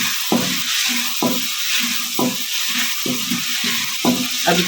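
Spices with chilli and turmeric roasting in a pan for masala pumpkin curry: a constant bright sizzle with regular low scrapes of a spoon stirring, about one stroke per second, close and fairly loud.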